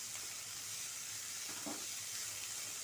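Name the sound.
vegetables sautéing in a pan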